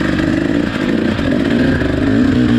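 Four-stroke dirt bike racing through mud at hare scramble pace, a loud, continuous mid-pitched engine drone with rough clattering texture, close and unbroken.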